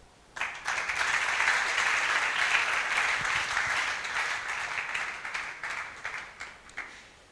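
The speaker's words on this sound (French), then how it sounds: "j'aimerais aussi que vous puissiez acclamer très fort pour lui" A church congregation applauds loudly and steadily for the pastor, a dense sustained round of clapping that begins abruptly and tapers off toward the end.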